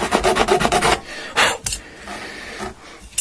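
Metal file rasping rhythmically across the beveled fret ends of an Electra guitar during a refret, a loud burst of quick regular strokes followed by a few scattered scrapes, with no talk.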